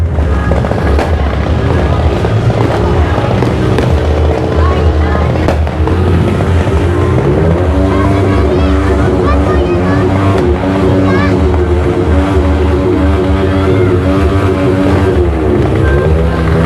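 Dense crackling of New Year's Eve firecrackers and fireworks over a loud, busy festive crowd with people talking and shouting nearby.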